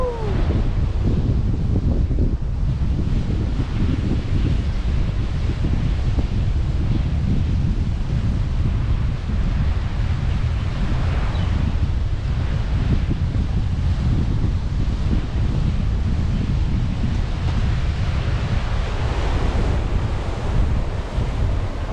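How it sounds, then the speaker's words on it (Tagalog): Waves crash in a constant heavy roar of surf while wind buffets the microphone throughout. "malakas ang hampas ng tubig"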